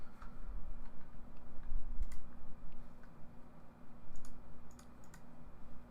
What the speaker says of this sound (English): try hitting a couple of other keys here